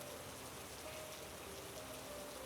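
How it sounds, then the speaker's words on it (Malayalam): Steady rain hisses evenly throughout, a dense wash of noise with a faint tonal hum running underneath. "ഇന്ന് പക്ഷേ നല്ല മഴയുള്ള ദിവസം കേട്ടോ"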